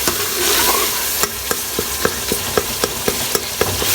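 Chicken curry masala fries in a pan while a spoon scrapes and stirs it, giving a constant hiss of sizzling oil under sharp, regular clacks of the spoon against the pan, close up and with no voices.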